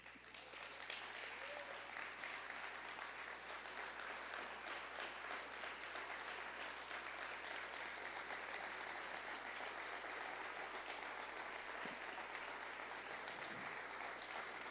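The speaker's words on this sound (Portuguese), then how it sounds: "fique em pé, dê um aplauso ao Espírito Santo" A church congregation applauds at a sermon's close, a dense, sustained wash of clapping from many hands that holds steady and loud for the full length without pause.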